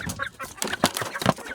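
Chickens clucking in a short burst of several overlapping calls, close and moderately loud, with a rooster-like squawk among them and no talk.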